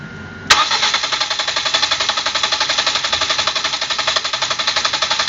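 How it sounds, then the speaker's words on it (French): A car engine being cranked by the starter with all fuel injectors disconnected during a cylinder compression test: a sharp start, then a steady, fast rhythmic chugging that never catches and keeps going throughout. "On a débranché tous les injecteurs et on start."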